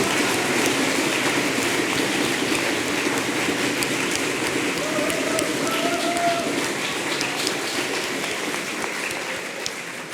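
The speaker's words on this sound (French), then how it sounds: "je vous invite d'applaudir très fortement Soleiman El-Cheikh" Sustained applause from a seated audience at a Sciences Po Paris graduation ceremony honoring the top student of the class, a dense, steady patter of clapping that holds loud for about ten seconds and tapers slightly at the end.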